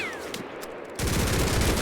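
A machine gun in the video game Mud and Blood opens up halfway through, a rapid continuous burst of loud close fire following a quieter stretch.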